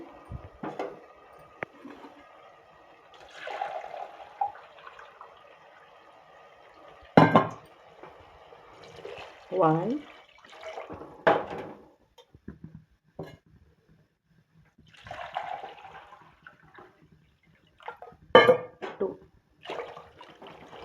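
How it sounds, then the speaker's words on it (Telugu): Water poured from a jug onto washed rice in a pot for vegetable pulao, two measures of water per measure of rice, coming as several short splashing pours with quiet pauses between, close by. "1 డబ్బాకి 2 వాటర్ అయితే వేసాను"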